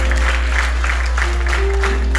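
A church congregation applauds steadily, a dense wash of clapping over a low hum, with a voice speaking over it.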